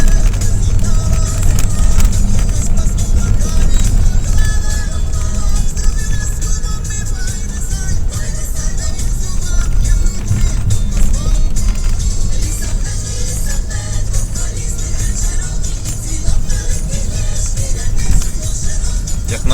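A vehicle drives around an orchard in winter, its engine a steady, close rumble with rattling and wind noise throughout and no clear change in pace.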